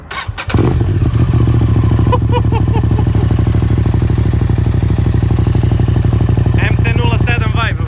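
Two-cylinder 100 hp motorcycle with no dB killer cold-starts: the engine catches after a brief crank and settles into a loud, close, steady rumbling idle, with a few revs near the end and voices briefly heard.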